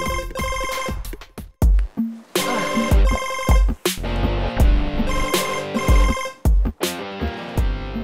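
A telephone rings repeatedly with loud, insistent, melodic ringtone bursts in a steady rhythm, heard early in the morning with no voices present.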